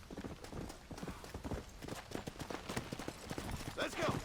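Hooves of several horses clip-clopping in a steady, fairly close rhythm in the Western game Red Dead Redemption, with talk running over them throughout.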